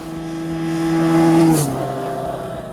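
A Benelli 302R 300cc parallel-twin motorcycle engine revs up close, its steady droning tone climbing in pitch as the throttle opens, peaking sharply, then dropping back to a lower hum.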